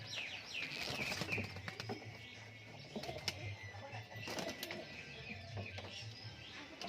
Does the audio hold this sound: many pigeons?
yes